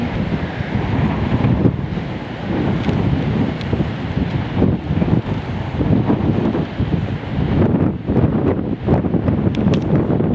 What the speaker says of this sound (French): ça souffle à 30, 35, 40 km/h et il y a des rafales jusqu'à 70